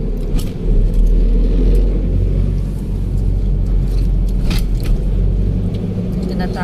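Road traffic on the way into Manila at night, a steady loud low rumble of car engines and tires with occasional faint clinks, continuous throughout with no break.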